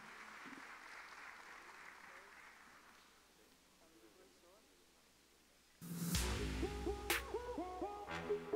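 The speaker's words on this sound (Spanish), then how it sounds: "Fuerte el aplauso." An audience applauds at a youth excellence award ceremony in San Cristóbal; after a quiet stretch of faint voices, a burst of clapping breaks out loud and close and continues to the end, with a voice speaking over it.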